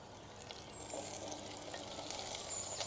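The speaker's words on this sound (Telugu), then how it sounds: "ఉల్లిగడ్డలు కొంచెం బ్రౌన్ కలర్ వచ్చే వరకు వేయించుకోవాలండి" Onions frying in a pan until brown for Andhra sambar, a soft continuous sizzle with faint stirring, quiet and without speech.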